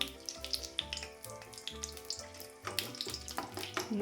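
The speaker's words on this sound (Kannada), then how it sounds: "ನಾನು ಗೋಡಂಬೆ ದ್ರಾಕ್ಷಿ ಎರಡನ್ನೂ ಫ್ರೈ ಮಾಡ್ಕೊತಾ ಇದ್ದೀನಿ" Cashews and raisins frying in a hot pan for carrot halwa, a steady close sizzle and crackle with small popping bursts throughout.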